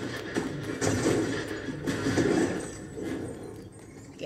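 Horse galloping in the Fortnite video game, a run of rhythmic hoof clip-clops and thuds close by over a game background, steady across the clip.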